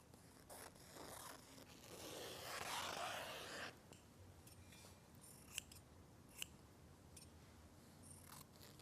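Scissors trimming excess fabric along a side seam during draping, heard close and quiet as a run of soft snipping and scraping cuts followed by a few isolated sharp clicks.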